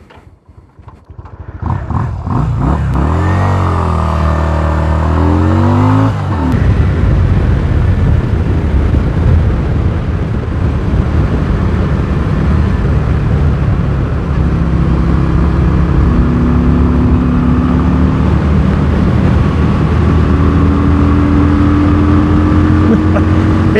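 A Yamaha V Star 250 small-displacement motorcycle revving on a canyon ride: the engine climbs through several rising and falling revs, then settles into a loud, steady drone as the bike rolls on under constant throttle.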